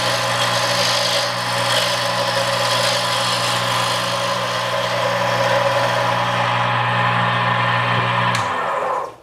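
Wood lathe spins a pen blank being turned with a gouge, a steady motor hum with a broad scraping hiss of cutting throughout, ending as the machine winds down.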